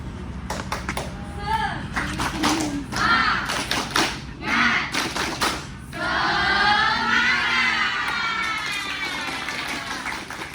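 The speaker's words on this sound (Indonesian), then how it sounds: "Dipimpin untuk tepuk semangat." A secondary school class of pharmacy students performs a rhythmic spirit clap, sharp patterned claps in quick groups, followed by cheering voices and chatter.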